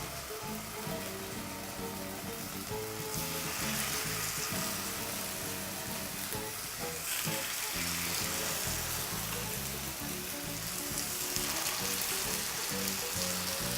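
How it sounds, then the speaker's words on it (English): Pork chops laid into a very hot pan for grilled chops, giving a loud, steady, dense sizzle that continues without pause, close up, with a faint hum underneath and no talking. "I'll start off by laying the pieces of pork in the hot pan"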